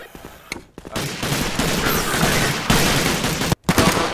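Video game Atlas Uprising gunfire comes as several loud, close bursts of rapid shots, broken by brief silent gaps, with the rattle running almost continuously through the middle.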